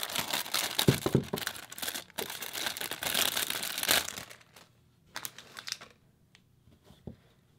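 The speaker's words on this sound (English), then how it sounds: "I tear open all the packaging." Crinkly plastic packaging on a Pusheen box is torn and crumpled open, loud and close, in dense rustling bursts that thin out into a few scattered crackles toward the end.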